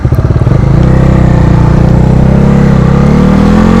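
A Bajaj Dominar 250 motorcycle accelerates hard through the gears, its loud, close engine note rising steadily after a brief choppy start.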